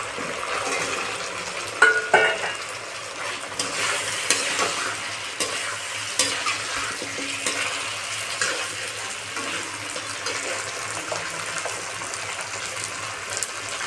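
Potatoes frying and being stirred with spice paste for a Bengali village-style catfish curry, a continuous close sizzle with repeated spoon scrapes and a few sharp clinks near the start, no voices.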